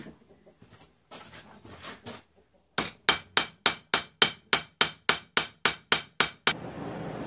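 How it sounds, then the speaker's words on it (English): Steady, ringing blows of a cross-peen hammer strike a steel knife blade while forging its bevels, in a regular rhythm, about a dozen sharp close impacts after a few quieter scattered taps. "I'm actually going to work on hammering the bevels out a little bit more"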